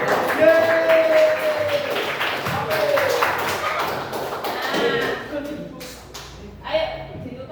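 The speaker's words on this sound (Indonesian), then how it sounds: "Tepuk tangan." Classmates clap after a group presentation in a classroom, a burst of scattered applause mixed with voices and chatter that thins out toward the end.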